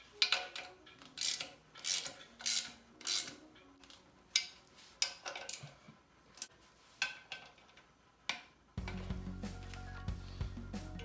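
A torque wrench clicks sharply on the clutch bolts of an all-wheel-drive Honda CRX during a Yonaka Stage 3 clutch install, with a dozen separate close ratcheting clicks in an uneven rhythm, then a steady hum joins near the end.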